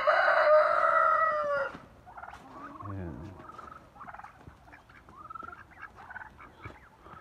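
A rooster crows loudly at the start, then several chickens cluck and chatter softly nearby.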